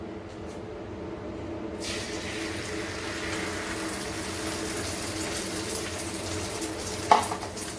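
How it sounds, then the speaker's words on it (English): An egg fries in a heated pan with a steady, hissing crackle of sizzling that starts abruptly and continues evenly, close and moderately loud, with a brief clatter near the end. "So as you can see, it's sizzling."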